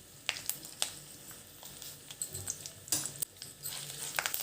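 Dried red chillies and curry leaves crackle and spit in hot oil for a tempering, soft scattered pops and sizzles at a low level, with no talking.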